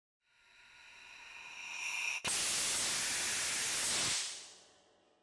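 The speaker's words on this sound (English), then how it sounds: "Opened up once, closed back down once." An Anderson Greenwood 200 Series pilot relief valve with remote sensing opens once with an abrupt, loud rush of venting hiss lasting about two seconds, then snaps shut. A softer hiss builds steadily before it opens.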